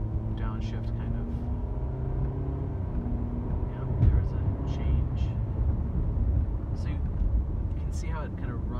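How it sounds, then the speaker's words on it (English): A Nissan car with an Xtronic CVT accelerates through simulated gear steps, its engine drone rising and stepping in pitch at a steady, loud level beneath someone talking. "see how it kind of runs through its simulated gears"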